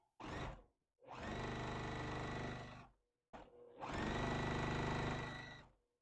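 A sewing machine stitches a quilt block in bursts: one short run, then two longer steady runs of fast, even whirring, separated by brief pauses, close and clear with no speech.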